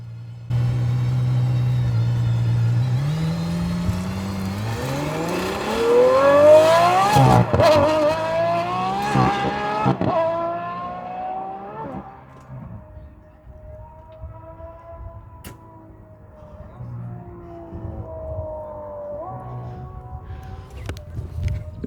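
An Aston Martin Valkyrie Roadster hypercar launches hard from a standstill, its engine howling upward through rapid gear changes, loud and close before easing into a lower, steadier drone.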